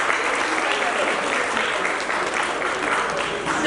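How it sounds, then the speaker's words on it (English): Sustained audience applause for Dr. Shamik Sen and his batchmates from the first NUJS batch at a legal conclave, a dense, steady wash of many clapping hands filling the room without pause. "Can we have a huge round of applause, please?"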